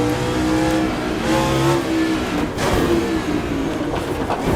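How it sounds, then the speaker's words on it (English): A Gilles Villeneuve-inspired F1 race car in Assetto Corsa screams at high revs, rising through quick gear changes in a loud, continuous engine howl with no voices over it. "This engine has so much power in a short span of time. You can really fly through the gears."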